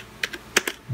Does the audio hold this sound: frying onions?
no